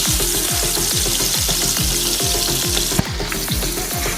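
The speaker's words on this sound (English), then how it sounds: "Now add a leaves of fenugreek in a pan and cook for 1 to 4 minutes." Fenugreek leaves cook in a pan with a continuous crackling sizzle and a rhythmic pattern of stirring scrapes, plus one sharp click near the end; nobody speaks.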